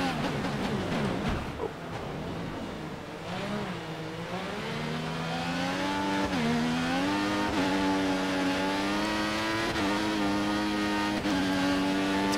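An F1 2014 race car's engine drones and climbs in pitch under acceleration on the Canada circuit, loud and close, with the tyres spinning; the rising whine repeats as the car goes through the gears, with no talk over it.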